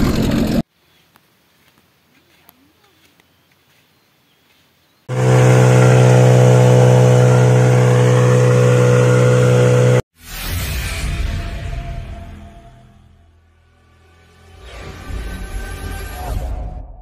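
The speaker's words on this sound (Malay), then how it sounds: "Enjin hidup, enjin hidup." A Hangkai 12hp outboard boat engine starts up and runs, with a sudden loud steady buzz after quiet, then a break and a revving roar that rises, dips and swells again, heard close.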